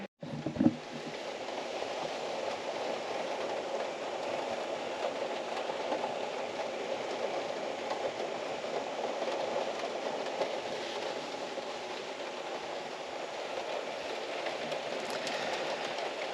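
Rain falls steadily on a camper van during a road trip, a dense, continuous hiss and patter filling the whole stretch with no talk.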